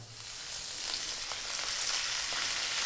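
Garlic frying in hot oil in a pan, browning for a sweet and sour fish dish, giving a steady bright sizzle that swells slightly and holds on its own without talking.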